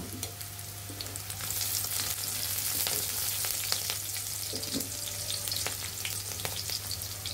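Onion, garlic, green chili and a pinch of black cumin sizzle hard in hot oil for a small river-fish chorchori, a steady bright crackle with occasional spoon-and-pan clinks close by and no talking.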